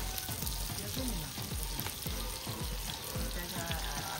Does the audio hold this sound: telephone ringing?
no